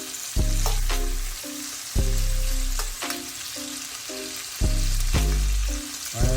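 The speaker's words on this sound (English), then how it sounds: "You're constantly stirring it, so you know it slowly cooks that way without burning." Chinese house fried rice is stir-fried in a pan under constant stirring: a sizzling hiss punctuated by several heavy, ringing metallic clunks that fade between strokes.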